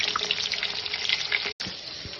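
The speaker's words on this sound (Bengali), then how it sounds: "আমি তেলের মধ্যে কই মাছ দিয়েছি, ভাজতে বসেছি" Koi fish frying in hot oil, giving a dense, steady sizzle and crackle that runs throughout, close by, with one brief silent break near the end.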